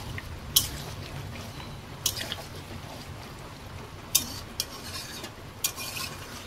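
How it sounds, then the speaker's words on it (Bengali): Chicken pieces are stirred and braised in a pan for a chicken do-pyaza, with a soft low sizzle under several sharp spatula scrapes and clacks spaced irregularly, quiet and close with no talk. "দেখুন মাংসটাকে ভালো করে কষাতে হবে"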